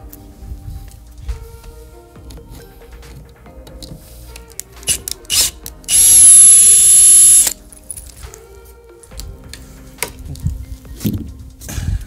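Power drill removing screws from the wooden crate of a large home battery, one loud whirring burst of about a second and a half amid nearby handling clatter and rustling.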